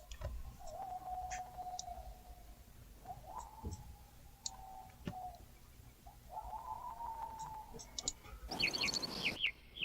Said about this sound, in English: You have the birds.